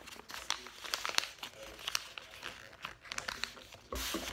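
Sheets of paper being folded up for a paper tank model, with close, soft crinkling and rustling in quick irregular bursts, ending in a louder crumple.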